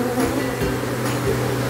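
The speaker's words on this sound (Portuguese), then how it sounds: "Juntou um monte de abelha." Honeybees swarm around an old hive box at an apiary during a box change, a steady dense buzzing hum close by with no voices over it.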